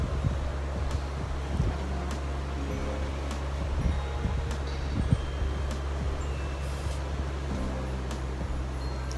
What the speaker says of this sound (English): it's quite windy, to be honest. It's very windy.